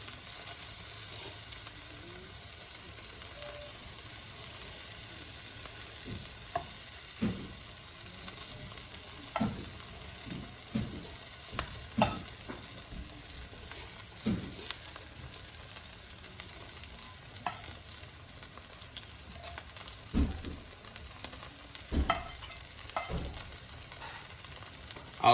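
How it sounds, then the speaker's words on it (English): Vegan sausages frying in a pan for a breakfast sandwich, a steady close sizzle with scattered pops and clicks, with occasional bangs and knocks in the background. "Now we're just gonna go ahead and add our sausages."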